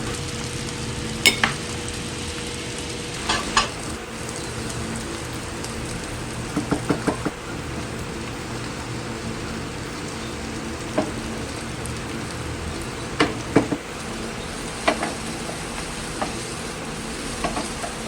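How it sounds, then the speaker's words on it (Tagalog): An egg frying and being stirred in a pan for shrimp fried rice gives a steady, close sizzle, broken by scattered scrapes and clicks from the stirring utensil. "Magpiprito lang tayo ng itlog."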